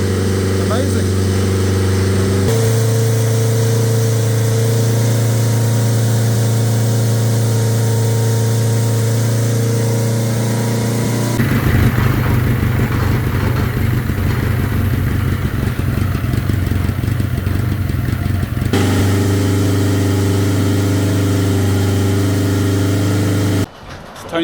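A BMW K100 café racer motorcycle engine runs steadily after starting, its low idle hum holding throughout with a rougher, busier stretch midway before settling again.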